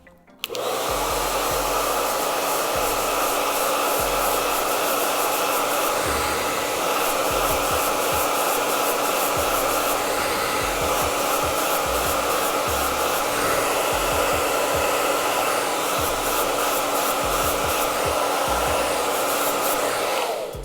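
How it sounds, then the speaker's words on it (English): A hair dryer blows steadily and loudly from start to finish, a constant whirring roar with slight shifts in pitch as it moves. "Then I'm going to take my blow dryer and start to heat up these roots."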